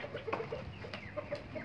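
Several chickens cluck in short, uneven bursts on a rooftop farm in Karachi where pigeons share their feed, the calls close and moderately loud over faint background noise.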